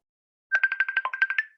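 A phone rings with a bright electronic ringtone, a quick run of about ten evenly spaced pulsing tones over a steady pitch, clear and close with no talk.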